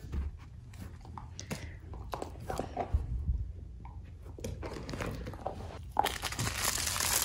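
A dog gnaws and crunches on a bone smeared with peanut butter, with repeated close biting and chewing sounds. Crinkly rustles run through the chewing, and it grows louder toward the end.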